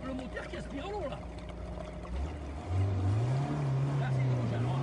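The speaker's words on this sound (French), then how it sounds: "Là c'est le moteur qui aspire l'eau là." A motor pumping water up from a spring runs with a low droning hum that rises and steadies midway, with water noise and people talking over it.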